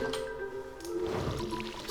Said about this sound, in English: I almost forgot to water these.